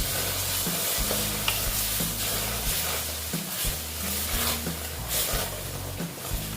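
Water poured into a hot pan of a mango dish sets off a steady, loud sizzle and bubbling hiss. Stirring clatters over it, and short bursts of spitting rise and fall the whole way through.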